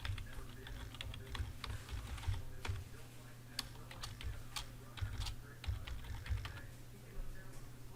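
A username being entered on a computer keyboard during an Active Directory setup, close quick key taps in uneven bursts over a steady low hum, and no voices.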